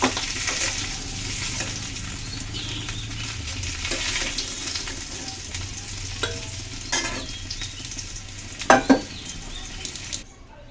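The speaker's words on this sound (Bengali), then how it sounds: "তরকারিগুলো ভালো করে ভেজে নেব।" Cauliflower, potato and tomato pieces fry in a pan with a sustained close sizzle, broken by stirring scrapes and a couple of sharp utensil clanks near the end before it falls quiet.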